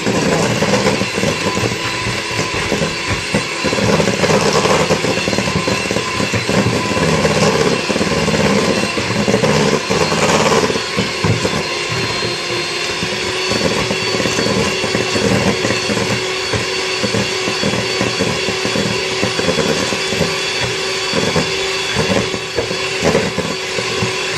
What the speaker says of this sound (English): I'm going to add the second egg and beat.